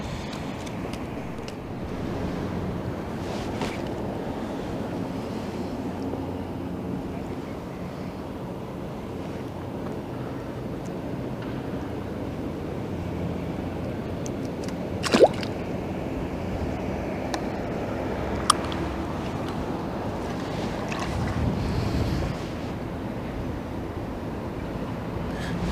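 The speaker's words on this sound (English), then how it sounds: "Wind's getting stronger now. Wind's getting up a bit." Wind blows steadily along a river bank downstream of Nottingham, a continuous moderate rush with microphone buffeting and two brief sharp knocks partway through, no talking.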